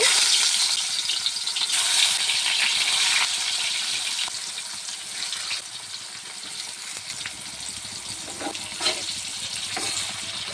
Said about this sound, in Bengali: এখন কাঁকরোলগুলিকে ভেজে নেব।